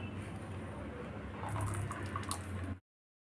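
Strained amla (Indian gooseberry) extract poured into a kadai on the stove, a soft continuous liquid splash that stops abruptly near the end, quiet and close.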